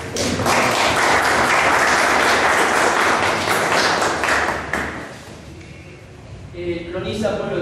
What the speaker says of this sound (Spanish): vamos a recibir un punto de aplauso acá al joven Luis